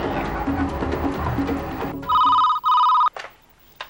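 Telephone ringing loudly with two bursts of a bright electronic trill about half a second each, coming after a stretch of busy background sound with some talk, then falling quiet apart from brief knocks.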